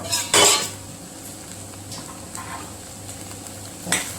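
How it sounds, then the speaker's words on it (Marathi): A metal lid lifted off a pan of cooking okra (bhindi), with one loud clatter near the start, a soft faint scrape later and a second clink near the end, no talk. "आता हे झाकण काढूया"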